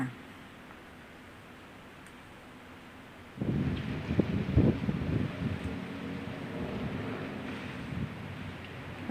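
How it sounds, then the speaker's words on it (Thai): Strong wind rushes and buffets against the microphone, rising suddenly and gusting strongly over a low steady background, outdoors near a passing electric train line. "ลมก็เริ่มแรงขึ้นมาบ้างแล้ว"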